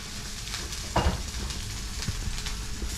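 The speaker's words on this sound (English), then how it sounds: "they're frying up now" Spam and Oreo burger patties sizzle and crackle steadily in a hot pan, close by, with a brief clatter of stirring partway through.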